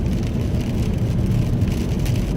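Steady rain drums on a car during a storm, a dense continuous wash of patter heard from inside, even and unbroken throughout.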